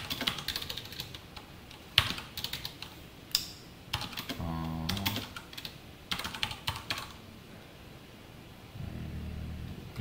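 Keys clatter on a computer keyboard in quick irregular bursts with short pauses, close and fairly quiet, while someone writes C code during a programming lesson.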